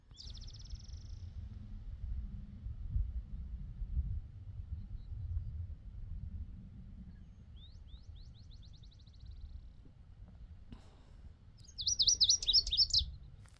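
A bright teal-blue bird on a mountain hiking trail sings three separate bursts of high, rapid chirping trills. The last burst is the loudest, and a steady low wind rumble runs underneath.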